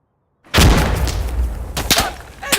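Loud gunfire from a sniper rifle in the video game Insurgency Sandstorm, starting after a moment of silence with a heavy boom and then a second sharp crack near the end, close and dominant.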